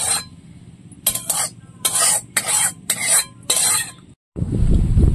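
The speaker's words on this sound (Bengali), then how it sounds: "মুচমুচে শব্দ হচ্ছে, এত মুচমুচে হয়েছে" Crispy fried shredded potato (jhuri aloo bhaja) crunches and rustles in a series of loud, dry bursts as it is stirred, closing in a denser, rougher scraping stretch.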